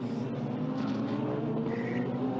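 Super GT race cars thunder around the Okayama circuit, a loud, steady blur of engine roar with no pauses or voices over it.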